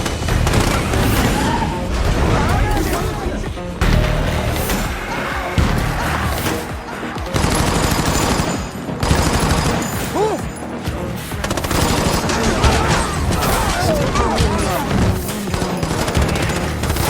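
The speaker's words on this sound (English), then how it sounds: "Under the barrage of heavy gunfire" Heavy gunfire in dense, continuous bursts, loud and close, with booms and crashes mixed into a chaotic battle din.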